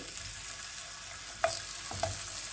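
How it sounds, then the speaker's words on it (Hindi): Potatoes dropped into hot oil left from frying eggplant in a frying pan give a steady, fairly soft sizzle throughout, with a couple of brief louder crackles and stirs near the end. "अब उस फ्राई पैन में मैं उसी तेल में आलू डाल रही हूँ।"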